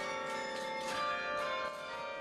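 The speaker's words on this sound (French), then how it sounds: "Au son du carillon, les oriflammes sortent une à une du clocher." A church carillon rings from a belfry during the Saint Vincent celebrations in Soignies, its bells overlapping in a sustained, resonant stream of tones, moderately distant and unaccompanied by voices.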